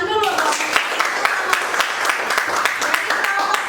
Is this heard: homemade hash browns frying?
no